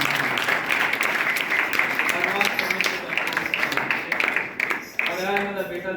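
A congregation at a church service claps together in praise, a dense rhythmic patter of many hands that runs steadily, with a voice speaking over it and a brief dip near the end before clapping resumes.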